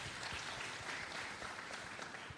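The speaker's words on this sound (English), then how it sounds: "Let's give Pete a round of applause." Conference audience at a diaspora plenary session applauds a panelist with a fairly distant, even wash of clapping that holds steady throughout.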